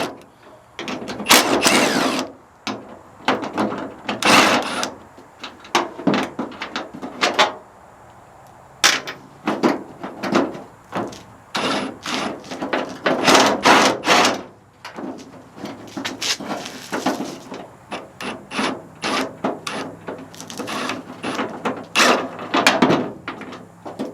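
Tailgate lever bolts being removed on a 1974 Ford truck, with repeated ratchet clicking bursts and metallic rattles in uneven clusters, close and fairly loud.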